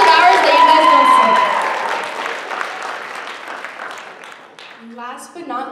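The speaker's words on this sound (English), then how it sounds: "But once again, big, big round of applause for these musicians." Audience applause for musicians at a college dance showcase, a full burst of clapping that gradually thins and fades, with a voice speaking over it at the end.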